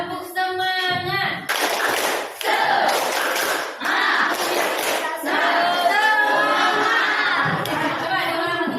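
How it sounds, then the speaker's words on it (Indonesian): A group of students performs the 'tepuk semangat' clapping routine in a classroom, loud rhythmic clapping in bursts mixed with chanted voices and shouts. "Tepuk semangat."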